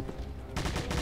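Gunfire in the Doom TNT Evilution video game, a dense burst of rapid shots starting partway through the short moment, fairly loud and continuous.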